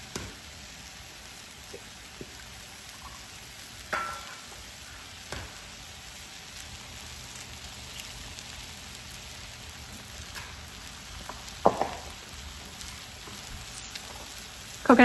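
Sausage and chopped vegetables cooking in a skillet give a continuous low sizzle, with occasional louder clatters of stirring standing out against the steady frying.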